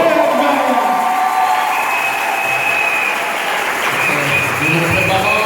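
A church congregation claps and cheers loudly in a steady burst of applause with whoops, close and full throughout, while a voice talks over the crowd.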